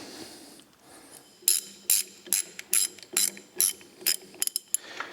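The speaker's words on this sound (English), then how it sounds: "as you can see, I'm actually putting the bolts in" A ratchet driving new bolts into the suspension of a Konig race car during a rebuild, a close series of sharp clicking bursts in an uneven rhythm with brief pauses and quick final clicks.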